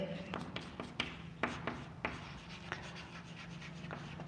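Chalk or marker writing on a board makes quiet, irregular taps and short scratchy strokes during a math lesson, with a faint hum behind them.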